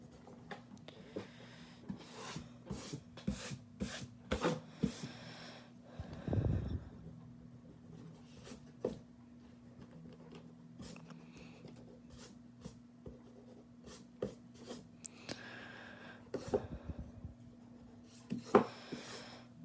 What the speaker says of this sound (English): But when I'm doing my big erasing, I like these big erasers.